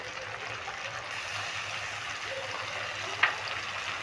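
Onion and tomato frying in a pan with garlic, chili and ginger pastes, a soft steady sizzle with a faint bubbling trickle and one brief clink near the end, no voices.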